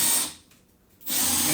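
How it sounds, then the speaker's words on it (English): A power drill bores a hole with its bit, whining loudly at close range, cutting out briefly partway through and then starting up again at full speed. "you're going to take your drill bit, and you're going to drill a hole"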